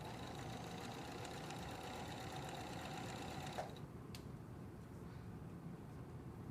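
A sewing machine stitches the inner leg seam of a pair of pants in a steady, fast mechanical whir, close and quiet, stopping abruptly partway through and leaving a soft room hum.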